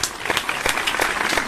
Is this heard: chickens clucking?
no